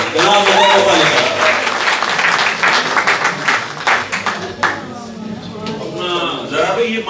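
Audience at an Urdu mushaira in London breaking into loud, dense applause that swells and then thins out into scattered claps, with a voice speaking over it.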